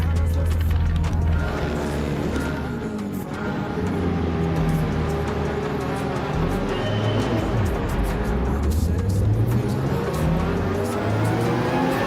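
Nissan GT-R race car engine in Gran Turismo 7, a loud continuous roar rising and dropping through gear changes as it accelerates and brakes, with other cars buzzing around it.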